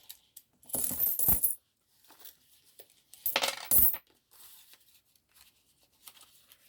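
Coins spilling out of a budget binder onto a surface in two loud clattering bursts, followed by a few softer scattered clinks and rattles close by, with no talk.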